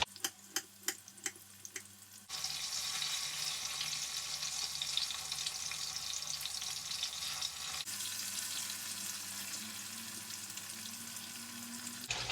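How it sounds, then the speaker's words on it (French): Tofu fries in hot oil with a loud, steady sizzle that starts abruptly after a few light ticks and continues close up for about ten seconds, shifting slightly midway. "Le tofu est prêt. Je vais pouvoir le retirer de la friture."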